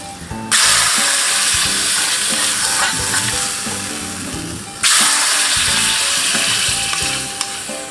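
A pot of dried fish curry boils on the stove with a loud, continuous hissing bubble that briefly cuts out and then surges back, close up and without talking.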